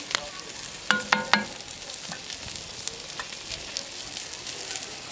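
Chipirones sizzling on a hot plancha griddle, a soft steady crackle running throughout with a few sharp clinks of utensils near the start.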